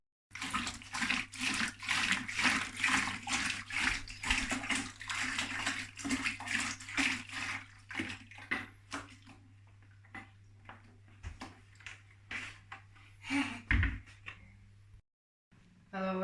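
Running water splashing steadily into a plastic home-brewing bucket fitted with a tap as it is washed, a continuous rushing stream that thins and breaks off near the end.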